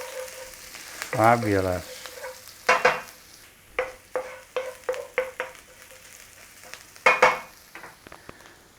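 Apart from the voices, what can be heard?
garlic and ginger frying and being stirred in a pan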